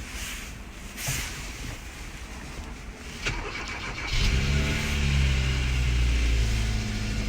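A car that needed jumper cables cranks with a rough whir, catches and settles into a steady idle, preceded by handling noises and a faint outdoor background.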